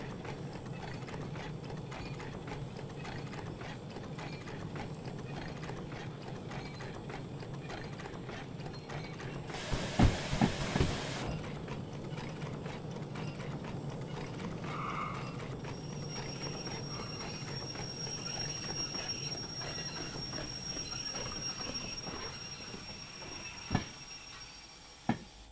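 An S060 steam locomotive in the Derail Valley simulator runs with a steady mechanical clatter and rhythmic rattling of rods and wheels, a brief loud burst near the middle and a couple of sharp knocks near the end.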